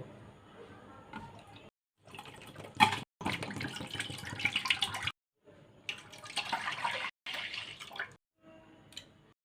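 A litre of milk is poured into a cooking pot, giving soft, quiet splashing gushes in several short bursts separated by brief silences.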